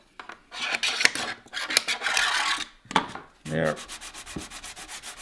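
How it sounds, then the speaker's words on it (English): A body panel on a Ford Bronco build gets scraped down in close, harsh, gritty strokes, first long and uneven, then short and evenly rhythmic. A single word is spoken partway through. "Scrape it all down, you know, so that this panel goes in."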